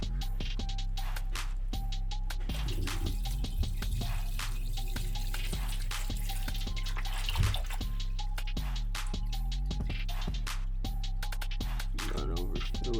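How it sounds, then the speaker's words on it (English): Distilled water pours steadily into an ultrasonic cleaner tank while rebuilding a wrecked superbike, a continuous trickle under a constant electrical hum with faint clinks. "Throw a little distilled water in with it."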